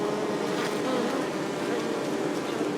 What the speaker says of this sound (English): There's a piece of honeycomb that fell that's covered in bees.